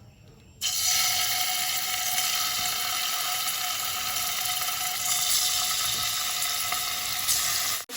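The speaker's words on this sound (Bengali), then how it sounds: "পনিরটা ভাজবো" Paneer fries in a kadai, giving a loud, even sizzle that starts abruptly and holds steady, close and alone.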